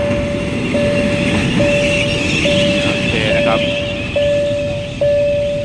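A freight train of container wagons followed by two passenger coaches rumbles steadily past close by, with a sustained whistle-like tone and periodic clicks, while someone talks over it in Thai near the Nong Khai border checkpoint.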